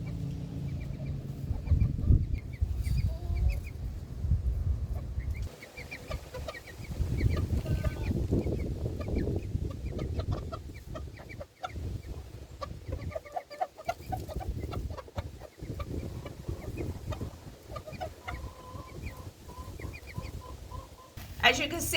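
Backyard chickens cluck and chatter almost continuously while feeding on an unfamiliar food, close by, with faint human talk in the background.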